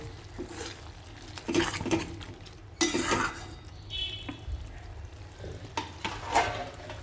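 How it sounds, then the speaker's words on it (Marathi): Egg bhurji masala sautés in ghee in a pan, quiet sizzling broken by irregular scrapes and clinks of a spoon stirring against the metal. "आपला मसाला छान परततो आहे"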